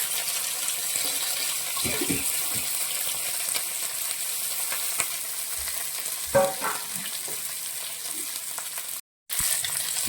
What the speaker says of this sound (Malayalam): നമ്മളതിലേക്ക് പച്ചമുളകും ചെറിയ ഉള്ളിയും കൂടി ചേർക്കുക